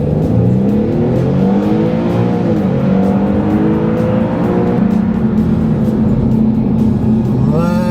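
A 2013 Audi A5 or Infiniti G37 coupe accelerates hard from 0 to 60 mph, its engine note climbing and dropping through gear changes, loud and continuous throughout.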